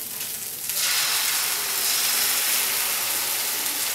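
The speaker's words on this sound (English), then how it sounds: "Then you can add your cooked potatoes. And I'm using 4 eggs." Cooked potatoes and four eggs sizzle and fry steadily in a pan for a Spanish tortilla de patatas, a loud continuous crackling hiss with no talking.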